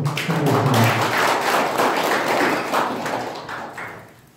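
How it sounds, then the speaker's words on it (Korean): Dense, steady applause from a seminar audience at a Korean Masters Golf Association teaching session in a golf practice range seminar room; many hands clap together for about four seconds before it starts to thin out. "다시 한번 뜨거운 박수로 부탁드리겠습니다"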